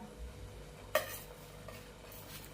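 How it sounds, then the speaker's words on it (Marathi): Shankarpali, small pieces of rolled sweet dough, frying in hot oil in a home kitchen, giving a faint, steady bubbling sizzle with one brief clink of a utensil and no talking. "ते आता आपण तळून घेऊया"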